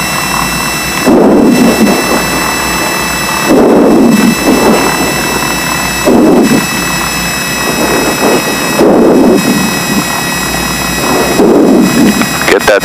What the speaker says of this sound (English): slowly, slowly advance the throttle